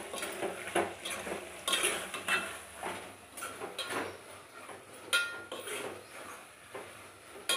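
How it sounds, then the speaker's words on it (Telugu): A spoon stirs bottle gourd and prawn curry in a metal pan on the stove, with repeated scraping and clinking strokes over a soft background sizzle, close and fairly quiet. "ఒకసారి కలిపేసి ఆఫ్ చేసేద్దాం"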